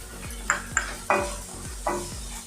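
A spoon stirs fried cauliflower in a pan for Gobi Manchurian, giving a soft sizzle under about five distinct scraping strokes spaced roughly half a second apart, close and fairly quiet.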